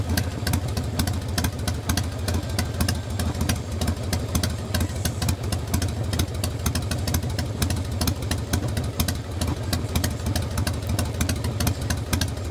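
A Harley bobber motorcycle engine runs through its original pipes, a loud, close, lumpy idle with a steady uneven throb and sharp exhaust popping throughout.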